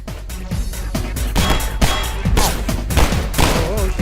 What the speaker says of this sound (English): Bullet audio.